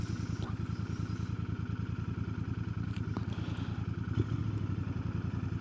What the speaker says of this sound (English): You can hear that little exhaust fill.